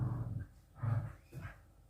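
A dog growls and whimpers close by in a home kitchen, three low rumbling bursts separated by short pauses, no talking over it.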